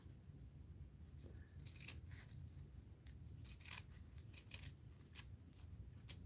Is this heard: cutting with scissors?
yes